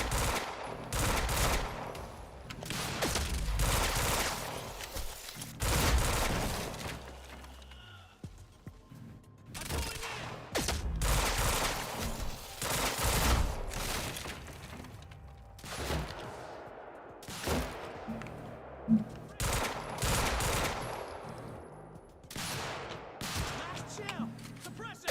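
Sustained bursts of gunfire from the video game Quantum Break, with repeated loud volleys and short pauses, often rapid like automatic fire, and voices calling out over the shooting.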